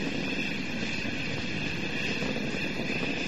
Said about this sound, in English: Three good engines throttling back to 2/3 of the rate of thrust